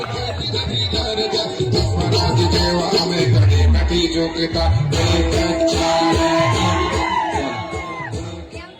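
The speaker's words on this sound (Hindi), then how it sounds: "एक बार पुनः जोरदार तालियों के गड़गड़ाहट से स्वागत अभिनंदन माननीय विधायक महोदय जी" A crowd at an Adivasi World Day gathering in Sendhwa cheers and shouts to welcome the local MLA. Loud whoops and yells rise and swell over background music, with clapping blended into the roar.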